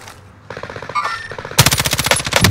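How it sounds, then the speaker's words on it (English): Automatic gunfire in a shooter video game, with short bursts and scattered shots giving way to a loud, rapid, sustained stream of rounds up close, no talk over it. "Oh, Ross, that's your gun"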